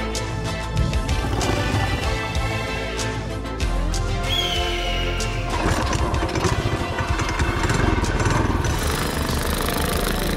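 A CT200U hotrod mini bike with a Stage 2 Predator 212 engine is ridden, its loud, close engine rasping continuously and rising in pitch as the throttle opens.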